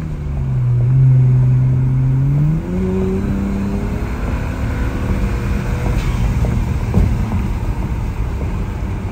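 BMW 1M with an upgraded throttle body driving on the road, with a loud engine note that rises through the gears, then a steady drone of tire and wind noise.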